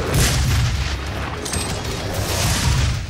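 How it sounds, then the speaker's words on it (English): A rocket launcher firing in Doom: heavy booming blasts and rumbling explosions fill the whole stretch loudly and continuously, with a brief higher whine in the middle. "This calls for a rocket launcher!"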